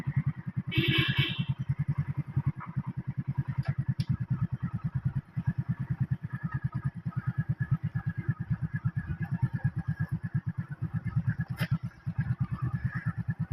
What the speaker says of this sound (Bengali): আমি এখন বাইকে করে ভিডিও করতেছি